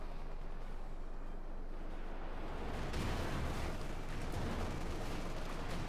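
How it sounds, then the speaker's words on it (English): Katyusha rocket artillery fire in Company of Heroes 2 battle, a dense, continuous rumbling barrage that swells noticeably around the three-second mark and keeps roaring to the end, with no voices. "Troops are getting blasted by Katyusha fire."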